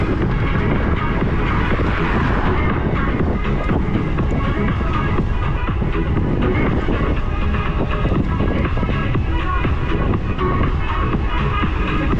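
Cold April wind in Crimea buffets the microphone with loud, continuous low rumbling and roaring gusts that last throughout.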